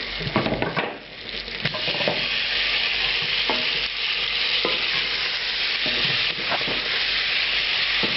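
Tomatoes hiss and sizzle loudly in hot oil in a pan for Spanish salsa bravas, with frequent spatula scrapes and knocks sounding over a constant frying roar.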